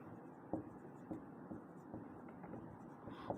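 Chalk or pen taps and strokes on a board while solving an equation, a series of faint, irregular short scratches and knocks at close range.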